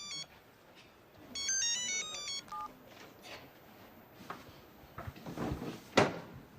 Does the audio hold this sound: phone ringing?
yes